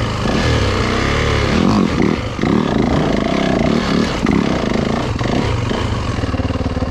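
An enduro dirt bike engine revs close by on light, gentle throttle with a loud, rough, clattering idle. Soft blips swell and fall back repeatedly throughout.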